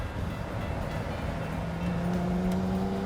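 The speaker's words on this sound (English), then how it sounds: "Let's let this Porsche go by." A Porsche drives past on an open road, a loud, close engine and tyre roar that swells as it overtakes a small Renault Twizy electric car, heard from inside the slower car.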